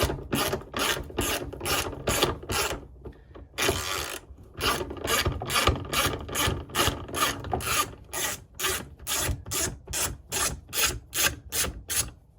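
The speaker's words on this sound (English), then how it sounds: "now we need to take out these M10 bolts" A ratchet wrench clicks rapidly in steady back-and-forth strokes while backing out M10 bolts inside a Jeep Wrangler LJ, close and loud, with a brief pause and a longer pull midway.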